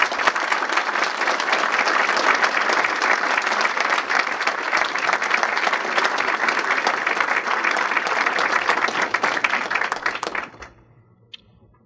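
An audience welcomes author Rick Atkinson to the stage with dense, sustained applause that fills the room for about ten seconds, then stops abruptly, leaving a few stray claps.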